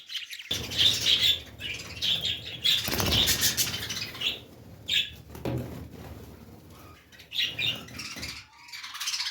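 Pet parrots, two females let out of their cage in a home aviary, flap their wings in bursts, with chirps and rustling close by and no talking.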